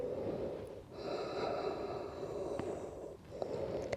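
Breathing during a yoga core exercise, a sustained breathy exhale with a nasal, snort-like edge, close and quiet, broken by a short pause before another breath.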